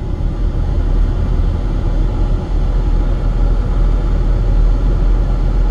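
A car engine that can no longer rise above idle, its throttle pressed in sixth gear, drones in a loud, steady, continuous rumble without any climbing rev.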